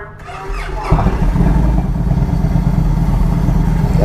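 A 2015 Victory Vegas 8-Ball motorcycle fitted with a Pisani exhaust starts up close by, then settles into a deep, steady, loud rumble that carries through to the end.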